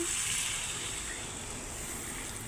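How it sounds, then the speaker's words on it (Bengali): Water pours into a pan of fried-down Bengali rohu fish curry with papaya, potato and green banana, giving a steady, continuous splashing rush close by, without speech. "এখন কষানো হয়ে গেছে আমি জল দিয়ে দিচ্ছি এখন"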